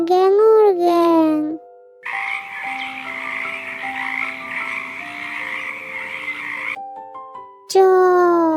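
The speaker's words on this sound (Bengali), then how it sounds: "ব্যাং ডাকে গ্যাঙর গ্যাং।" A frog croaks steadily for several seconds in a Bengali children's alphabet rhyme, with a sung child-like voice just before and after the croaking.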